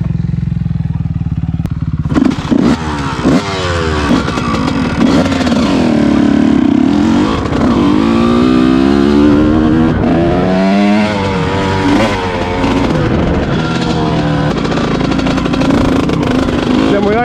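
Suzuki RM-Z450 dirt bike engine running and revving hard throughout, rising and falling in pitch, close and loud, with people talking over it.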